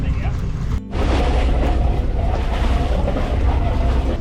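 An old sailing catamaran's engine runs at about 1200 RPM while cooling water gushes out of the exhaust, a steady close rumble with watery splashing and wind buffeting, broken by a brief dip near the start, with voices talking over it.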